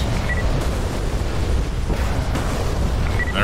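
A heavy, rumbling explosion from an air strike on mortar positions in the DCS flight simulator, a loud, sustained low boom filling the whole stretch without speech.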